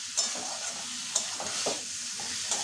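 Yardlong beans with spices and prawns are stirred in a hot pan, a steady close sizzle with a few sharp scraping clicks of the utensil against the metal.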